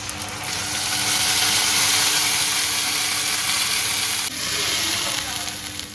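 Boiled beetroot hits a hot pan with a loud, steady hiss of sizzling that swells and holds, then drops briefly and resumes, close and dense without distinct stirring knocks.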